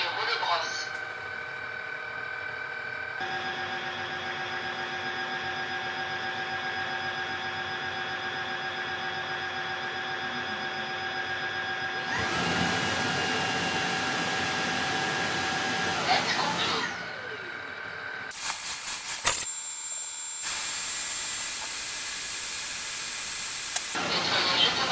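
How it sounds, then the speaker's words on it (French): Tineco S7 Pro floor washer running its self-cleaning cycle, a steady motor drone with hiss and spraying water that shifts in intensity midway, followed by a louder, rougher whirring burst near the end. "Le nettoyage automatique c'est commencé."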